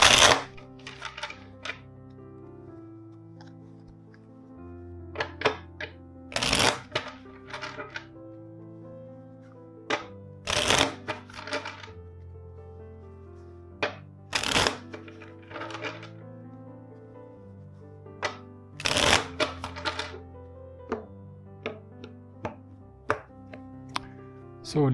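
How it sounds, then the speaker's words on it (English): Tarot cards are riffled and tapped in short bursts, crisp close-up snaps between quieter shuffling, with soft musical tones underneath. "let's shuffle the deck four times for you"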